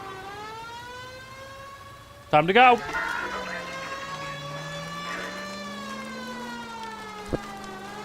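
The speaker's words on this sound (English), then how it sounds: "I hear the sirens." A police siren in L.A. Noire holds a steady rising and falling tone throughout, with a voice speaking briefly over it and a short clatter midway.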